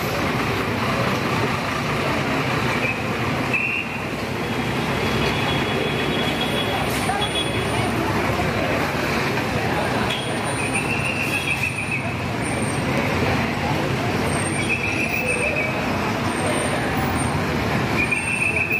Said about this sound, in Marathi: महाड स्थानकात पहाटे 4 वाजल्यापासून संध्याकाळी 7:30 ते 8 वाजेपर्यंत गाड्यांची सतत वर्दळ असते.